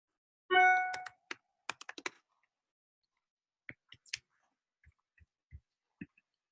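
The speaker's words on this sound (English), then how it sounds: "I've been typing frenetically, trying to get them all answered." Fast typing on a computer keyboard, a burst of quick clicks followed by sparser, scattered keystrokes, close and with no talking.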